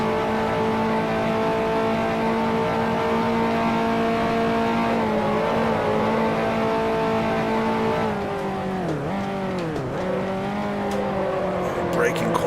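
Race car engine in a racing video game, holding a steady high-pitched drone that dips sharply as the car brakes hard into a corner, then climbs again, loud and continuous with no talk.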